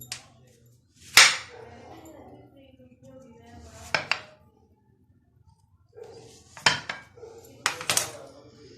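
Knife cutting a set besan sweet in a metal dish, giving several sharp metallic clinks and scrapes spaced across the stretch, with quiet gaps between them and no talking.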